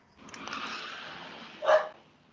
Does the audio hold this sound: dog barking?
yes